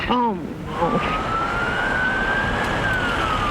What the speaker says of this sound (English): An ambulance rushes to the home of the child.